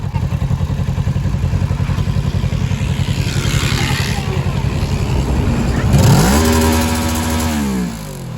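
A Kawasaki Ninja 650 superbike is ridden on the Berhampur bypass. Its engine drones steadily and close, then revs hard near the end with a rising pitch before easing off.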